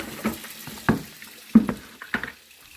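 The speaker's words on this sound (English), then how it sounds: "rinse your grapes" Grapes being rinsed under running water, with their stems still on, in a home juice-making setting: several splashy, uneven bursts of water on fruit with gaps between them, close and moderately loud, no talking.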